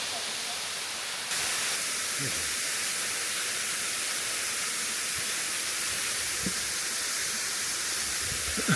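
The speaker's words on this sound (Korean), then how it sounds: "여기가 가와산 폭포입니다." Broadband roar of Kawasan Falls waterfall in Bohol, a steady loud rush of falling water filling the scene, with brief faint voices and small splashes under it.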